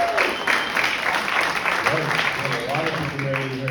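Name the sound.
audience applause at comedy show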